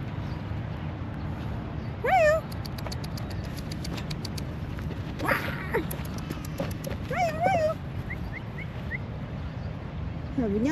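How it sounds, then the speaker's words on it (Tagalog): An unleashed dog runs around outdoors, giving repeated yelping, whining cries at intervals over a constant rumble of background noise, with a quick patter of feet in places and voices nearby. "Nakakapagod yung aso."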